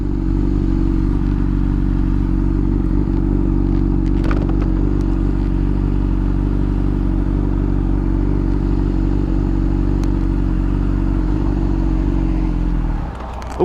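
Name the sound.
Honda CBR600RR motorcycle engine idling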